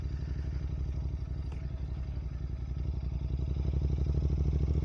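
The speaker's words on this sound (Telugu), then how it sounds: "నా బైక్ ఏమో నార్మల్గానే జారుతుంది" A motorcycle engine thrums steadily at close range as the bike rides along a wet, muddy, slippery off-road path, with faint clattering throughout and the engine note growing slightly louder toward the end.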